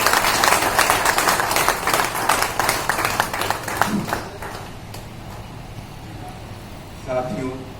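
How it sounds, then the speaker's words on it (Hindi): An audience at a welfare association meeting in Hazaribagh claps in a burst of loud, rapid applause that thins out and fades, leaving quiet room tone with a brief voice near the end. "जोरदार भाई ताली से ताली बजाया होगा।"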